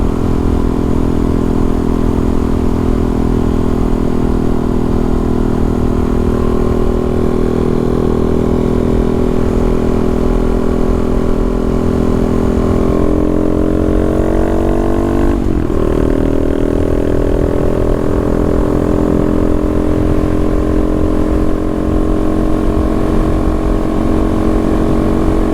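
A Honda Monkey motorcycle engine drones steadily at a constant cruising speed, a loud, close, unbroken hum that dips briefly in pitch partway through before settling back to the same even tone.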